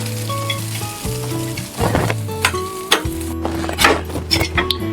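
Poha (flattened rice) sizzles loudly as it fries in a pan, close by. A spoon stirs and scrapes it repeatedly with metallic clinks, over a steady hum.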